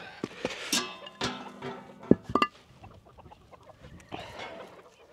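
Hens cluck in short, uneven bursts close by, with a sharper squawk partway through and rustling farmyard noise between calls.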